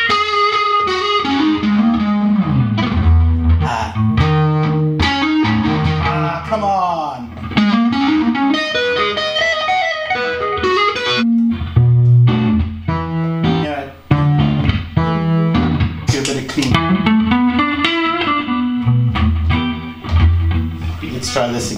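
Electric guitar played through heavy distortion with effects, a dense run of chords and notes that keeps going loud and nearly continuous.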